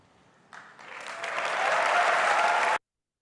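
An audience at an Apple product presentation breaks into applause that starts with a few claps and quickly builds to full, dense clapping. The applause cuts off abruptly after about two seconds.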